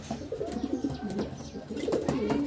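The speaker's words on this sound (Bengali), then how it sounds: "কবুতর" Red checker pigeons coo up close, their soft, low, throaty calls rolling in repeated phrases, with a few faint chirps and rustles in between.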